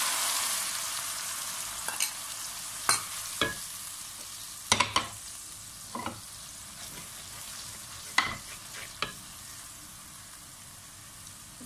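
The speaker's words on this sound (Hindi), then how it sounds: "इसमें मैं ये लहसुन डाल रही हूँ, उसके साथ ही सारे मसाले मैं डाल दूँगी जो मैंने बाउल मिक्स किए हैं" Garlic and mixed spices frying in hot oil or ghee for a mung bean and potato pulao, a steady sizzle broken by several sharp clanks and scrapes of stirring.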